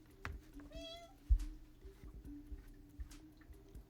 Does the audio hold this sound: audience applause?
no